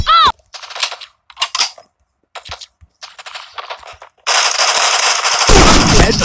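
Bursts of rapid gunfire ring out in the mobile shooter Forward Assault: short separate volleys with gaps, then a long loud sustained stream of automatic fire.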